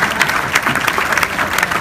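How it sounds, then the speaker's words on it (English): A live event audience claps together in sustained, fairly loud applause with dense, steady clapping throughout and no talk over it. "Everybody clap. Will you clap for me again?"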